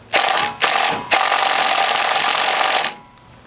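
Impact wrench straining against stubborn head bolts on a Lawnboy 196cc lawn mower engine: two short buzzing bursts, then a long sustained loud hammering run of about two seconds that stops abruptly, with no talk.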